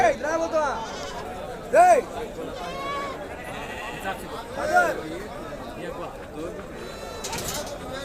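Goats bleat in short wavering calls, a couple of them loud and close, while people haggle over prices in the background of the busy Angallu sheep and goat market.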